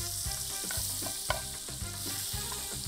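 Cavatoni pasta sizzles steadily in butter in a pan, with a continuous frying hiss and rhythmic scraping taps as it is stirred, no talk.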